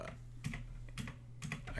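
Fingers tap a computer keyboard at close range in quick clustered bursts of keystrokes, about four groups in under two seconds, with a low hum underneath.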